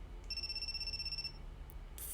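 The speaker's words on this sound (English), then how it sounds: "Before I can answer, the ringing stops." A phone lying face down on the ground by a door rings with an incoming call: a single sustained electronic ringtone tone lasting about a second, followed by a brief chirp and a louder burst at the end, with no talking.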